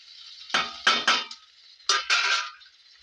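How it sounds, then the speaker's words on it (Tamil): Chili and turmeric powder are stirred into a pan while cooking okra stir-fry, producing several quick metallic scrapes and clinks of a spoon against the pan over a faint sizzle. "மிளகாத்தூள், மஞ்சத்தூள் எல்லாத்தையும் நம்ம என்ன பண்ணிக்கிறோம்னா ஆட் பண்ணி போட்டுக்கிறோம்."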